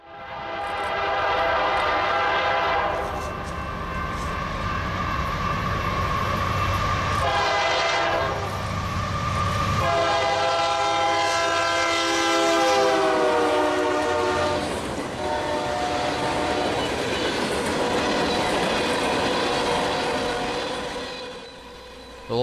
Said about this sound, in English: UP 5979 takes the lead of LPJ05, a local that runs from West Chicago to DeKalb on the Geneva sub